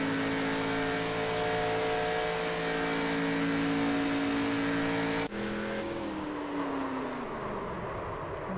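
Chevrolet Impala race cars roar at Daytona International Speedway, a loud, steady multi-engine drone with layered harmonic tones that shifts pitch and drops slightly as cars pass mid-race.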